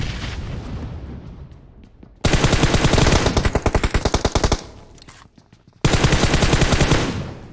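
PUBG Mobile gunfire: rapid automatic bursts of shots in two loud stretches, one fast string of rounds broken by a brief pause, then another sustained burst, with quieter game ambience between.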